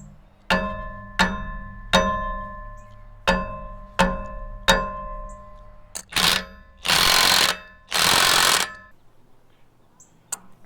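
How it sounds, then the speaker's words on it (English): A lead hammer strikes a stuck Ferris wheel part six times in a steady metallic ringing rhythm, followed by several louder, longer harsh grinding or buzzing bursts, then quiet. "I got this lead hammer. I think we're just going to beat on it a while."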